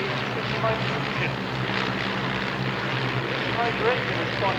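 A de Havilland Tiger Moth biplane's Gipsy Major piston engine drones steadily in flight at an air display, a continuous moderately loud hum with faint talk underneath.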